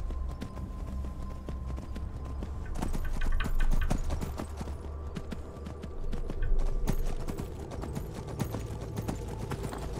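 Horse hooves clop in a rapid, steady rhythm while riding across terrain in the video game Skyrim, a continuous galloping patter over a low rumbling background.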